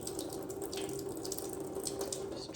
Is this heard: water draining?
yes